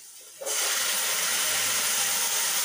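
Tomatoes go into a hot pan of potatoes with turmeric, and after a brief quiet moment a loud, steady sizzle bursts up and holds at the same level.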